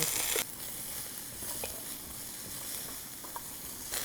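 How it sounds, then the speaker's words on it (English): A wok sizzles hard on an induction cooktop, a loud, steady hiss of frying that opens with a sharp burst and carries on close, with faint stirring clicks and no talking. "So my wok sizzles away, stronger than most gas that you have at home"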